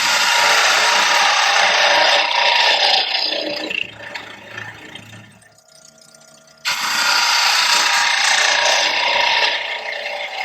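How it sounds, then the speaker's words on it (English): A 1/2-inch spindle gouge cuts scrap wood on a lathe, giving a loud, steady scraping hiss that thins out midway, drops to a brief near-quiet lull, then resumes at full strength. "This is a 1/2-inch spindle gouge."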